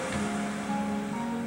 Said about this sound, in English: You can hear the waves crashing on the beach